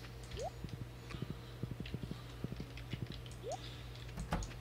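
Horse hooves clopping in Stardew Valley, a rapid series of light, evenly spaced game footstep clicks over soft background music, with a couple of brief chime-like effects.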